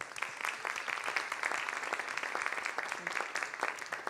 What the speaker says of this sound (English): I would also like to extend that round of applause